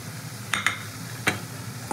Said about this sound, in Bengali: ভেজে রাখা আলু, বেগুন আর বাদামটা এবার দিয়ে দেবো